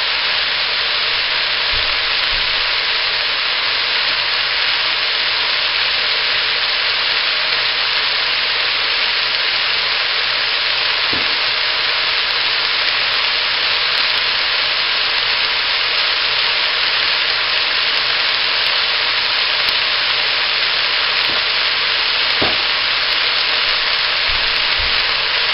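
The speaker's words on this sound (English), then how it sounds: "Okay, well that's searing. I'm going to add the tomatoes, the onions" Meat sears with tomatoes and onions in a pan for a puchero. A loud, unbroken hissing sizzle holds steady throughout, with only a couple of faint clicks and no speech.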